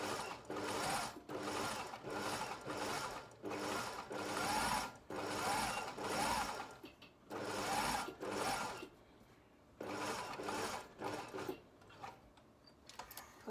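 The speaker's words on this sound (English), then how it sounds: "Now I'm going to sew another row about 2 millimetres from the other edge." A sewing machine runs a row of gathering stitches in bursts, a steady mechanical whir with rapid needle clatter that stops and restarts several times, close and fairly quiet.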